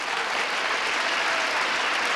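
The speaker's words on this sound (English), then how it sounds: "You're clapping for yourselves because you're beautiful people" A studio audience at a 1973 televised music show applauds, a dense, even wash of clapping that holds steady from start to finish with no talk over it.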